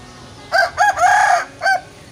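A rooster crows clearly and close by in a Lao village, several loud harmonic bursts running into one long drawn-out call, with a short final note after a pause.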